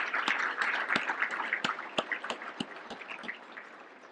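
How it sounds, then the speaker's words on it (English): An audience at an annual dinner applauding committee volunteers, scattered individual claps standing out over a softer background of hands, fairly quiet and thinning toward the end. "Please join me in giving these outstanding volunteers a big round of applause."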